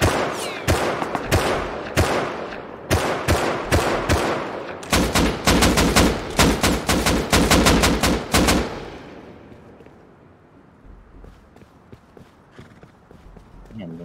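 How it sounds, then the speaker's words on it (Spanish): Gunfire rings out in the video game Rust, with rapid bursts of sharp cracks in quick volleys and single shots that fade away into quieter background noise. "¿Quién me está disparando?"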